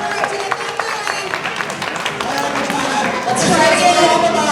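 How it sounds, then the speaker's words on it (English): An audience at a marine park sea lion show applauds for the sea lion Kitana, scattered clapping that grows fuller toward the end, mixed with a presenter's amplified talk. "Let's give her a big old round of applause."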